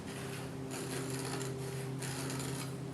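A Midwest Scribe drawn across a metal panel to mark a 1/8 inch line, giving bursts of dry scraping hiss over a steady low mechanical hum.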